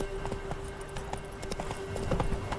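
Hooves of Roach, a horse in The Witcher 3, clopping in a quick steady rhythm, close and moderately loud, over a constant faint background hum.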